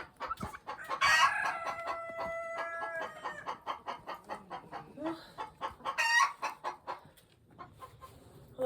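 Chickens cluck and squawk close by during morning chicken chores in freezing cold weather, a rapid pulsing chatter of several birds with a few louder calls rising over the flock.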